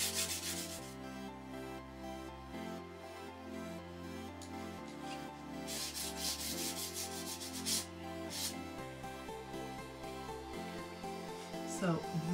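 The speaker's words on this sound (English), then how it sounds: "I'm gonna take this sandpaper and I'm just gonna sand it just a little bit." Sandpaper rubbed lightly across a painted Dollar Tree framed art piece gives a soft, scratchy scraping that runs steadily under louder background music.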